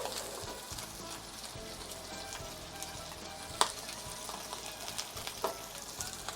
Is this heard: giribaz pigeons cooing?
no